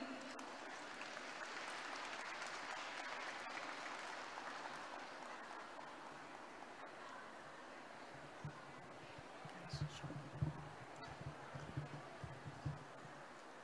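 Steady audience applause at a Buddhist Dharma gathering in Brisbane, fairly faint and continuous, with some scattered rustling and handling sounds near the end.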